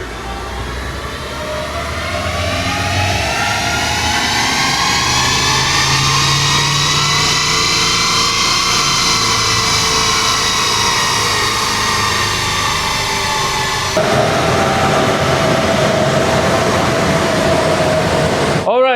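A budget car's engine revs hard and continuously on a dyno for its first run, a loud sustained roar whose pitch climbs steadily and then shifts near the end, with voices faintly underneath.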